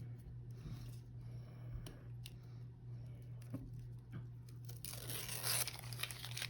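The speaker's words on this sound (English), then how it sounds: "If I can get this tape off of here." Tape being peeled off a piece of wood for a tabletop zen garden, heard up close as a run of soft crinkling and tearing rasps that swells into a louder, drawn-out rip near the end, with no talking.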